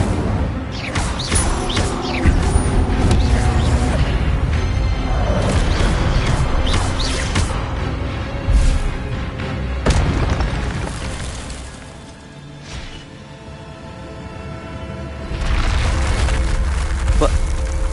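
The Incendio fire spell erupts in Hogwarts Legacy, heavy booming blasts and crashing whooshes rolling loudly across the scene, dipping briefly before another burst, with a voice speaking over the action.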